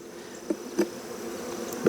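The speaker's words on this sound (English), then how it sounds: "there's bees all the way to here" Honeybees hum continuously around a hive at an apiary, a steady close drone with a few louder passes as individual bees fly near.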